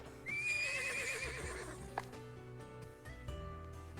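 A horse in the video game Twisted Wonderland lets out a loud, clear whinny, followed by clip-clopping hooves and a light music bed, with no talking.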